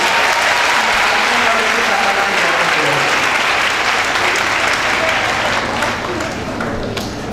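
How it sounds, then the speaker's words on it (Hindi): An audience at a district women's education and safety campaign event bursts into loud, sustained applause, dense clapping that fills the whole stretch with only a slight fade at the end, voices faintly mixed in. "एक बार पुनः जोरदार तालियां"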